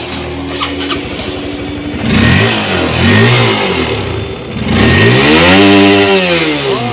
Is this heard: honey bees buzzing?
no